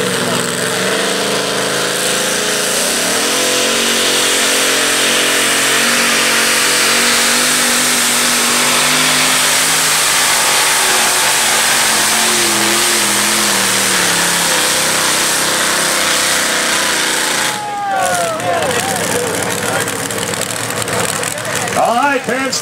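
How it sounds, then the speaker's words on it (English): Dale Woods' Bone Shaker, a 1923 bucket drag truck at a truck pull, revs its engine hard at launch, a loud mid-pitched roar that climbs and holds before cutting off near the end, with an announcer talking over it. "Dale Woods, the Bone Shaker, really knocked the RPMs out of the truck"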